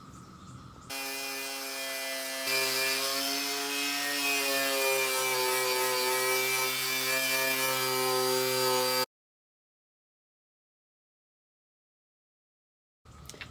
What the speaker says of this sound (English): I'm going to take my wire wheel and I'm going to buff off the primer and the Bondo